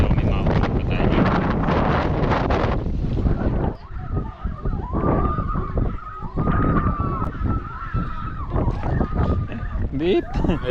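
Strong wind buffeting the open shore of a fishing bay in Calamba during the habagat monsoon, a loud continuous rumble with gusts, while someone talks throughout.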